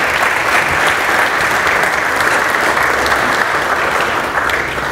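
A crowd applauds loudly and continuously, a dense, steady clapping that fills the whole stretch.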